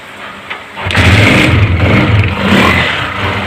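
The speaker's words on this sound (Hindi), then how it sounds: "अब बाइक को स्टार्ट करेंगे स्क्रू खोल के।" A Honda CG 125 motorcycle engine with an RPM problem catches after a moment and keeps running loudly nearby, revving up and down unevenly.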